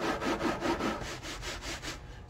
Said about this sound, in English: these are the various scratch sounds